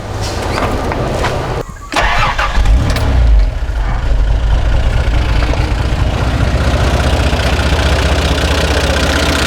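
A Toyota Land Cruiser 60 Series engine with a freshly rebuilt carburettor revs hard and close, settling into a steady, strong, even roar after a brief dip near the start.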